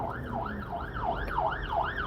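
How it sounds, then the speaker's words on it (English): An ambulance siren wails in a steady rising-and-falling sweep as it passes close to a moving car, loud and continuous over a low rumble of road and engine noise. "There's an ambulance going past me, as you can hear it."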